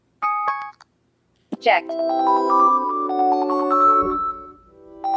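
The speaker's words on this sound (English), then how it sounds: "So now we have our ringtone set that we want to use for alerts." An Android phone ringtone chosen for alerts plays as a bright, sustained electronic melody with layered tones, starting after a brief spoken word and short pause, with a low rumble joining near the end.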